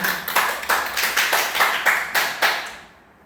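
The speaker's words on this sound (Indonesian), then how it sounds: "Tepuk tangan untuk Faisal" Classroom applause for a pupil named Faisal during a practice-teaching lesson, a fairly small group clapping in regular bursts that fade out at the end.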